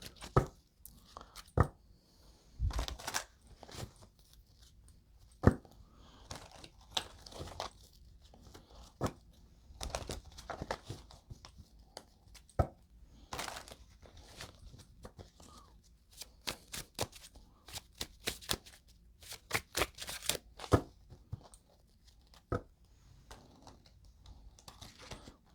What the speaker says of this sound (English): Now, Anna, the way that the cards are shuffling